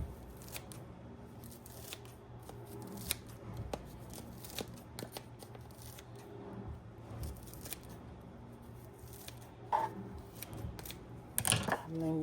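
Scissors cut through the matted roots of a tray of indoor microgreens with quiet, repeated crunchy snips and rustling. A few sharper cuts come near the end, all faint and close.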